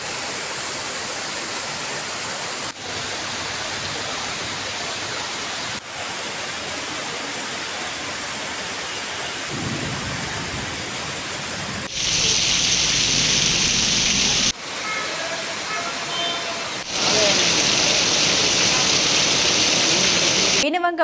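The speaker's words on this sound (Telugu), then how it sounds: "దాదాపు 2 గంటల పాటు ఎడతెరిపి లేకుండా వర్షం పడడంతో డ్రైనేజీలన్నీ కూడా నిండిపోయాయి" Heavy, continuous rain pours down for a long spell in Jammikunta, a steady dense hiss with abrupt shifts in loudness and brightness between segments; no thunder stands out.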